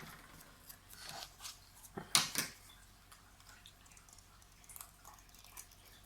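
Scissors snip double-sided tape for a handmade folding birthday card, two crisp close snips clustered together amid faint rustling, with no talking.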